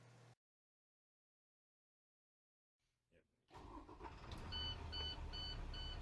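School bus engine cranks and starts after a silent pause, then settles into a loud steady idle with repeated electronic beeps over the running engine.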